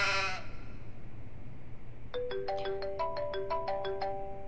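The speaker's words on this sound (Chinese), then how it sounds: "你等会儿，我接个电话。" A mobile phone ringtone plays a repeating melodic pattern of bright, evenly spaced tones, clear and alone in a quiet room after a short burst of sound at the start.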